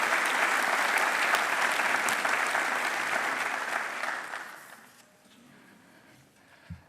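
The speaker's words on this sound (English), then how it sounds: "Let's give a big round of applause to all of the individuals who are represented today" A town hall audience gives a big round of applause, full and sustained for about four seconds, then thinning and fading into quiet room tone with a single soft knock near the end.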